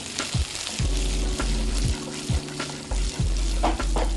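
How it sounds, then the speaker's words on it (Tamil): Shallots, green plantain and green chillies sautéing in a pan for a theeyal, a loud steady sizzle broken by repeated scraping stirs of the spoon at a loose, uneven rhythm, close up with no talking. "சின்ன வெங்காயம், இந்த வழுத்தனங்காய், பச்சை மிளகாய், இதை வந்து நல்லா வந்து வதக்கிடுங்க."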